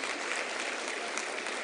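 Brief burst of audience applause at the Women in Science awards ceremony, a dense even wash of many hands clapping at steady loudness.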